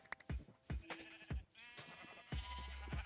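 Minecraft sheep bleating in a video game, several short close bleats in an uneven sequence, loud and clear with no speech over them.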